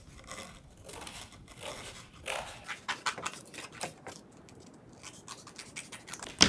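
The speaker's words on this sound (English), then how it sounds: "And you're going to cut some strips." Scissors snipping through strips of card, a series of short crisp cuts and scratchy paper sounds at close range, irregular in rhythm, with no talking.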